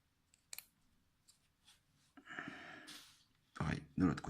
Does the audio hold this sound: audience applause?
no